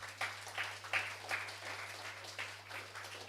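Audience clapping after a talk at an international conference, a steady, fairly quiet patter of many hands lasting a few seconds over a low hum, with no voices on top.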